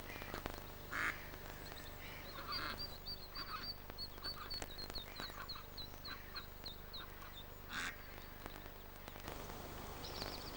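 Ducklings on a quiet mill lade near a water mill at Blair Atholl, giving soft repeated peeping and quacking calls in short bursts over a steady murmur of flowing water, with no talking.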